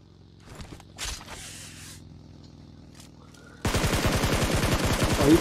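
Rapid automatic gunfire from the shooter game PUBG Mobile bursts in suddenly after a quieter stretch with faint scattered game sounds, a dense, loud volley of repeated shots filling the final seconds.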